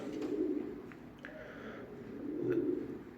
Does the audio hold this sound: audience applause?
no